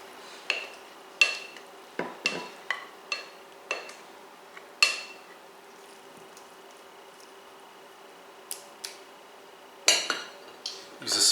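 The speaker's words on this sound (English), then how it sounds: "Use a spatula to make sure you get all of the egg into the dish." A spatula scrapes a zucchini and egg mixture into a casserole dish, giving a run of sharp clacks and scrapes against the dish. The sounds are close and intermittent, with a quieter gap midway and no talking.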